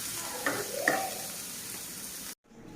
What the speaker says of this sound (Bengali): ঝালগুলো একটু ভেজে নেব